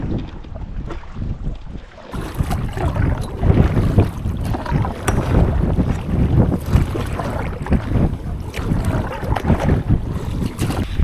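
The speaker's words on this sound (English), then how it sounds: "Quite strong wind, isn't it? Really strong." Strong wind on a lakeshore during a canoe trip in Wabakimi buffets the microphone with a steady, loud, low roar throughout, and no one speaks.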